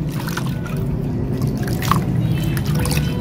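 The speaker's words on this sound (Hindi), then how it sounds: "और फिर नॉर्मल पानी के साथ धो लेना है ऐसे" Water trickles and splashes steadily as hands are rinsed with plain water during a home skin treatment, a close, continuous wash of sound with small drips standing out.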